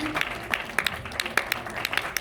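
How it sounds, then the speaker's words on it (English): Audience applause at an awards ceremony, a light scatter of individual claps with sharp irregular hits rather than a full roar, moderately close. "Please give him a big hand."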